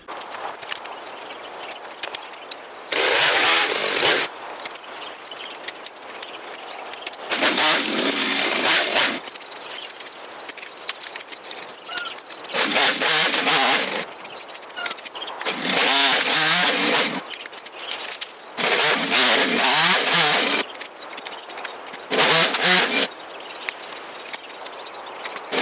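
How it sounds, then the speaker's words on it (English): A Farmertec Holzfforma clone of a STIHL 200T chainsaw doing tree work revs in six loud, roaring bursts of about one to two seconds each, separated by quieter idling gaps. "The little knockoff chainsaw works."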